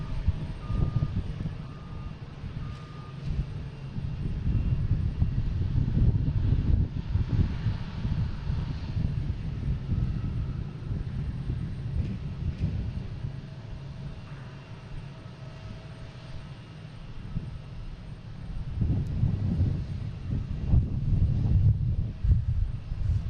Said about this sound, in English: we got JetBlue taking off to Atlanta, flight